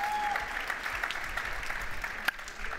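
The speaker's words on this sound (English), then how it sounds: "Please, big round of applause to welcome on stage Steve Goyet." Steady audience applause fills an awards event in Barcelona, a dense even wash of clapping from a large crowd with one sharper clap near the end, no speech.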